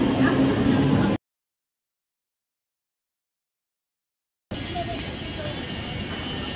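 A train at Byculla railway station in Mumbai gives a steady, broad rumble of station noise, cut off by silence midway before it resumes.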